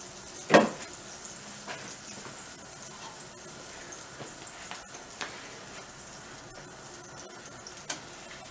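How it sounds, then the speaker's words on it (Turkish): Bread slices fry in butter in a Teflon pan, giving a steady low sizzle and crackle throughout with a sharper clatter near the start, no voices. "Ekmeklerimizi teflon tavada attığımız tereyağlı kızartıyoruz."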